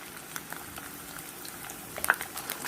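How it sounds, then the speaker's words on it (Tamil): Ginger and garlic sautéing in hot oil in a pan, a soft, steady bubbling sizzle with light crackles, fairly faint and close, with no talking. "இஞ்சியும் பூண்டும் நல்லா வதங்கட்டும்."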